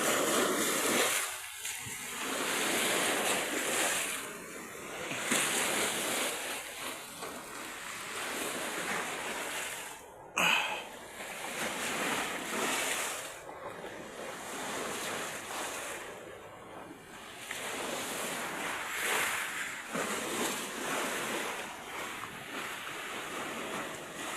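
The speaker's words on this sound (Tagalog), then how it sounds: "galit talaga yung dagat kapag binibidyoan natin dito nagagalit yung dagat" Rough sea waves roll and crash continuously, a loud, steady roar of surf with wind buffeting the microphone throughout.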